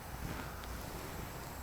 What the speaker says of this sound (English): That hissing noise you hear are the brakes being released, air going through the system.